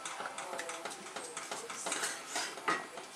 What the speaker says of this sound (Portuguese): Aí mexendo até o ponto.